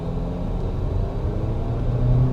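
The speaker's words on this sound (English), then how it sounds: "You have to rev the powertrain to get this vehicle to give you any type of power" A 2022 Jeep Compass Trailhawk compact SUV engine holds a steady, loud low rumble with a slight rise in revs toward the end, heard alone with no talk.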